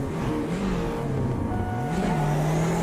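BMW 2002 turbo vintage race cars pull away together at the historic Nordschleife in Automobilista 2, a steady loud engine drone with rising and falling revs as the pack accelerates through gears.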